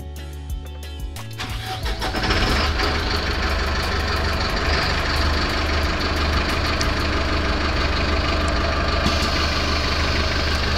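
Ford Torino G7 engine turning over and catching, then settling into a steady, loud, close idle with a continuous low rumble for the rest of the clip.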